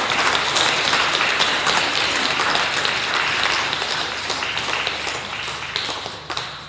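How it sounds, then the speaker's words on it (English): Sustained applause from a church congregation at Holy Communion, dense and steady clapping that slowly tapers off toward the end. "they both deserve a huge round of applause"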